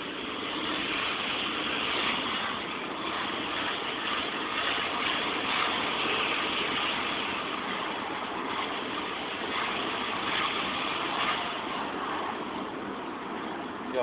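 An Alfa Romeo 147 engine runs with an abnormal noise, a steady hissing, whirring drone sustained at even volume over a low rumble, with no talk over it.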